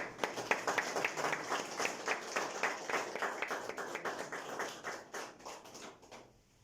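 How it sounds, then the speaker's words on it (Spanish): A church congregation at a Sunday service claps in a quick, rhythmic pattern. The claps are distinct and fairly even, then taper off and fade toward the end. "Dale un fuerte aplauso, Señor."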